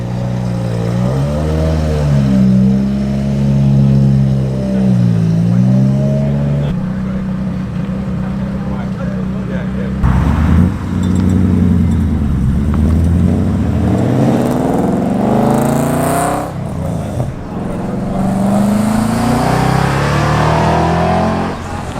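Cars rolling past at a breakfast car meet, including a Jaguar F-Type and a short-wheelbase Series 1 Land Rover, with a loud, raspy straight-pipe exhaust drone that rises and falls as engines rev and pass, and a voice talking over it.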